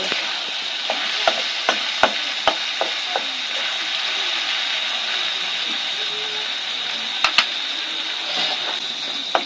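Chicken pieces fry in oil in a pan for street-style chicken chowmein, a constant hiss of sizzling broken by sharp clicks and scrapes of a spatula stirring at irregular intervals.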